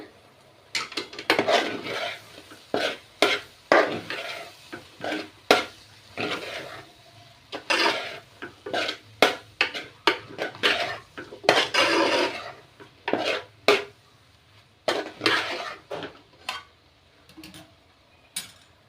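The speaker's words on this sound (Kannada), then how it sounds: "ಸೋಯಾ ಸಾಸ್ ಈಗ ಇದನ್ನ ಮಿಕ್ಸ್ ಮಾಡ್ಕೊಳ್ಳೋಣ" Egg rice mixed with soy sauce in a pan, stirred with a metal utensil, giving irregular bursts of loud scraping and clinking against the pan with brief pauses between strokes, close up and without talk.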